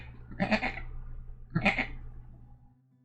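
A person imitates a sheep with two drawn-out bleats about a second apart, each one wavering and nasal, close and fairly clear over a faint steady hum.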